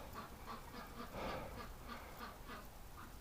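Muscovy ducks give faint, repeated breathy hisses and low quacks at a regular pace, fairly distant and soft against a quiet outdoor background.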